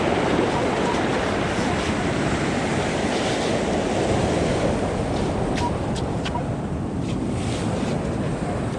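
Surf breaking on a beach, a steady, loud roar of crashing waves and rushing water mixed with wind buffeting the microphone, with no talk.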